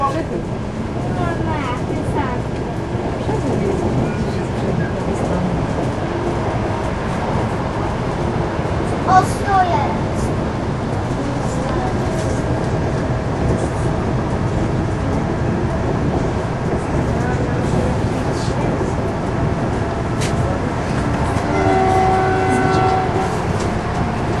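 Continuous loud rumble and rattling of an ED74 electric train taking a curve at 100 km/h, heard from inside, steady throughout, with occasional brief squeals and a voice talking over it.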